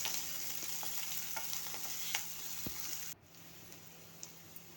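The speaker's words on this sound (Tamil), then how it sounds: "இது எல்லாம் போட்டு நல்லா 2 நிமிஷம் வதக்குங்க." Onions, chillies and curry leaves sauté in a pan with soft sizzling and scattered stirring clicks, fairly quiet and close, then the sizzle drops abruptly to a lower hush near the end.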